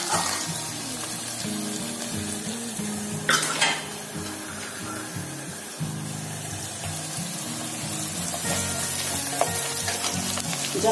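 Chopped onion fries in a pan on a medium gas flame, a steady soft sizzle broken by occasional clinks of a spoon stirring against the metal.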